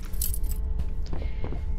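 A bunch of keys jangling inside a video game, a short metallic rattle with a few bright clinks, close and clear, ending after a couple of seconds.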